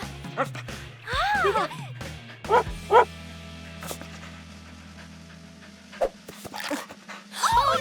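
A cartoon dog in a Polly Pocket animated episode yips, whines and woofs close by in short bursts, panting between them, with a low steady hum underneath.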